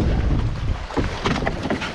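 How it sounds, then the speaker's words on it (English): Gusty wind buffets the microphone on an open lake during a canoe trip in Algonquin, a loud low roar with rising and falling bursts and faint water sounds beneath, no voices. "it's definitely some wind out here"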